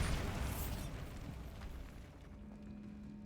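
Bombarda spell blast in Hogwarts Legacy, set in a decayed catacomb: a booming burst opens loud, then a rumbling debris tail fades over a few seconds and ends in a low hum.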